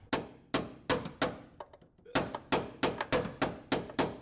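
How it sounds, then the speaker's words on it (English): A ball peen hammer strikes a metal valve cover repeatedly, sharp ringing blows in a fast uneven rhythm with a short pause midway, close and fairly loud. "I'm beating the shit out of the valve cover"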